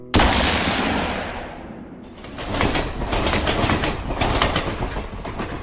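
Video game Batman the Detective: a train travels toward Paris with a loud whooshing rush that fades, then steady rumbling and rhythmic rail clatter close by, no voices.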